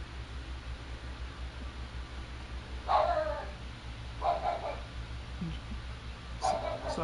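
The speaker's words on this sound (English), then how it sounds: "Sorry about that. That's my dog." A pet dog barking indoors, three short bursts of yips and barks spaced a second or so apart, moderately close, over a low background hum.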